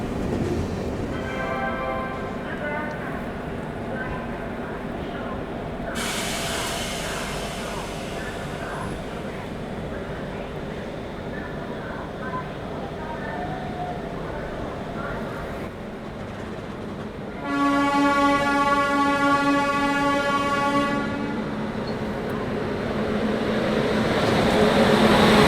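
The Sampark Kranti superfast express stands at Muzaffarpur station amid a steady rumbling hum, with two loud, long horn blasts from the locomotive and some voices in the background.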